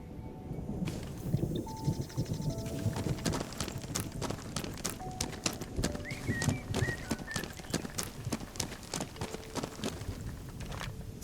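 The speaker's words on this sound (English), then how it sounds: "See a lot of the birds are there." Birds call and chirp in scattered bursts around a tranquil golf course with a small seating area, set against a busy ambient wash and close, rhythmic footsteps or clopping throughout.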